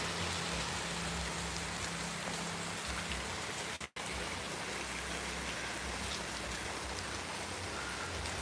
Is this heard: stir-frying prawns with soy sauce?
no